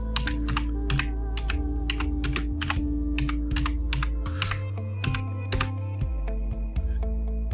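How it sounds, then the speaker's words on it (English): Typing on a computer keyboard, a quick run of sharp, close clicking keystrokes in an uneven rhythm over a low steady hum, with no talking. "What I do is type in Halloween or whatever you're looking for, digital print"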